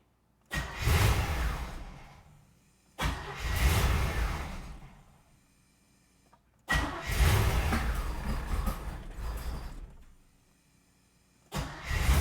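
A C4 Corvette engine with a starting fault roars up in long revving bursts, four surges separated by brief lulls, loud and close.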